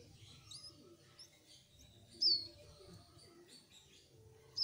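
Baby cigun bird being hand-fed, with thin high chirps and peeps scattered over a soft low rumble, including a couple of sharper louder calls.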